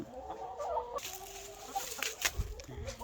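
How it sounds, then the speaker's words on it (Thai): Backyard chickens, foreign egg-laying breeds, cluck and murmur at close range in a garden, with soft scattered calls and light rustling, no talking. "มาเลี้ยงไก่เนาะค่ะพี่น้องเขาเลี้ยงไก่อยู่สวนหลังบ้าน"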